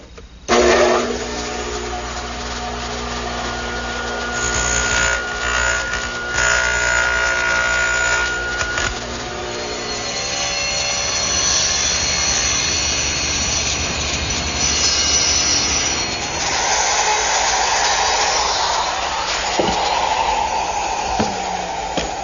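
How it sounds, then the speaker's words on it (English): A radial arm saw cuts a notch in a wooden partition for a hanging cleat, a loud, close motor whine with a shifting pitch as the blade passes through the wood, running continuously for about twenty seconds. "if I use the radial arm now to make a pass right here, I'll get a nice square corner"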